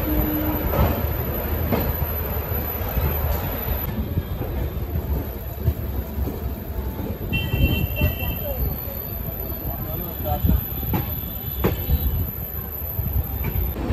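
A train departing for Malda Town rumbles steadily with low wheel and carriage noise, plus faint squeals and clatter, while voices talk over it throughout.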